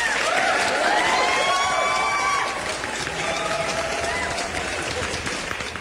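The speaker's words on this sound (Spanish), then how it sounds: "el aplauso para esta gente," A TV studio audience applauds and cheers during a Spanish-language magazine show, a steady wash of clapping mixed with crowd noise and shouting voices, dipping slightly partway through.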